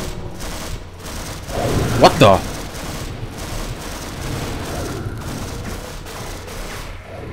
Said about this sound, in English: I'm hearing a bunch of gunfire